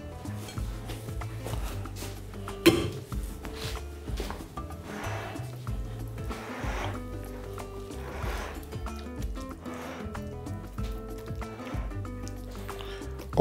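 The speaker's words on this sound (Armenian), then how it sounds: "խառնում ենք, տակն ու վրա ենք անում" Okonomiyaki batter mixed with fried ingredients being stirred and turned over in a bowl, a continuous close scraping and squelching with one sharp knock.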